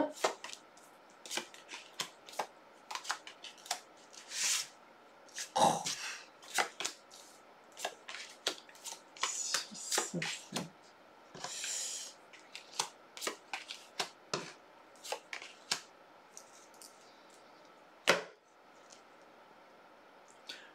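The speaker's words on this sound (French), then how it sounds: "Alors, on va poser 9 cartes." Tarot cards shuffled and dealt out in a spread of nine, giving a long run of crisp riffling flutters and soft slaps of cards landing on a table, close and fairly quiet with no talking.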